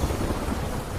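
A heavy monsoon downpour in Gujarat with rumbling thunder, a loud continuous wash of rain and deep rolling rumble with no voices.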